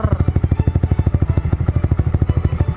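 A Yamaha NMAX V2 scooter fitted with an RS8 Redlak exhaust idles close up, a loud, steady, deep rapid thumping pulse that stays even throughout.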